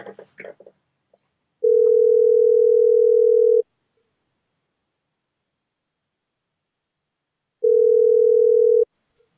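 Two long electronic ringback tones from a telephone call, each a steady pure-toned burst about two seconds and one second long separated by silence, preceded by faint rustling handling noise.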